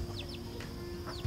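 Two mother hens with a three-week-old chick make a few faint clucks and thin chick peeps, distant and quiet under steady outdoor background noise.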